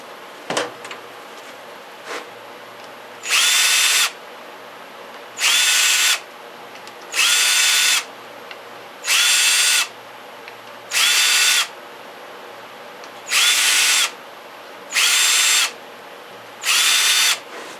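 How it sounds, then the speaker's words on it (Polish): A power drill fitted with a chamfering bit deburrs and chamfers a hole in eight bursts of loud whirring, each lasting a second or so and separated by brief pauses, close by and with no voices. "Tutaj też w otworze robię faskę."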